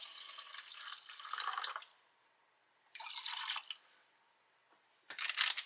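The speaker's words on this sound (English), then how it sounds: "let's get a hot water in our coffee." Hot water poured into coffee from a Bundeswehr individual combat ration pack, heard as three close, splashy bursts of trickling liquid separated by short pauses.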